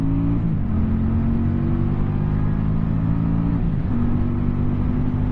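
A 2023 QJ Motor SRV300 motorcycle engine pulls steadily through the gears, holding a loud, close droning tone that dips briefly at each shift and then climbs again, with no talking.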